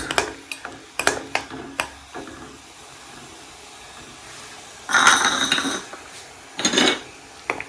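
Metal utensil clinks and scrapes against a pan while homemade Ayurvedic oil is stirred on the stove, with sharp taps early on, then two louder bursts of scraping and sizzle-like hiss.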